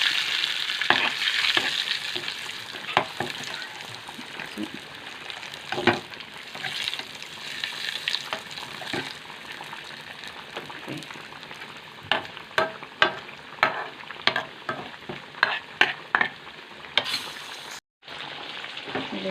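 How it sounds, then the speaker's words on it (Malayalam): Onions fry and sizzle steadily with chili powder for a mackerel curry, broken by frequent sharp scrapes and taps of stirring that grow more rhythmic toward the end; close and moderately loud, with no talking. "ഉള്ളി മൂത്ത് വരുന്നു ഉള്ളി നമുക്ക് മൂത്ത് വന്നിട്ടുണ്ടെങ്കിൽ കുറച്ച് ഫ്രൈ കുറച്ച് മുളക് പൊടി"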